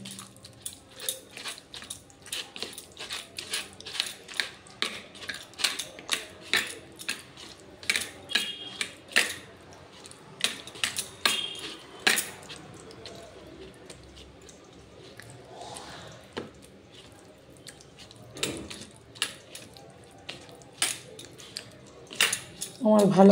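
Chicken bora batter being mixed by hand in a bowl, with soft wet squishes and light clinks of utensil against the bowl in an uneven rhythm, steady and close, with occasional talking.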